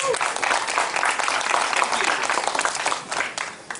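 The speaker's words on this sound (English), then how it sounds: "Give him a huge round of applause." An audience applauds at a media preview event for Halloween Horror Nights 25, steady close clapping that holds for a few seconds and then starts to thin out, with a faint crowd murmur underneath.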